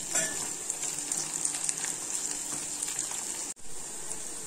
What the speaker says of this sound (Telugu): ఉల్లిగడ్డలు కొద్దిగా వేగాక అందులో పుదీనా వేసుకొని